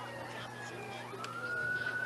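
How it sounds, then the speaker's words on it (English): Ambulance siren in the distance, approaching a high school football game at Dutch Clark Stadium in Pueblo; a faint rising wail sits under steady crowd and field noise, growing slightly louder toward the end. "you might be able to hear in the background the ambulance is approaching Dutch Clark Stadium"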